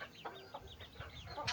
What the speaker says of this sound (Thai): มื้อนี้สิพามาเบิ่งไก่ป่า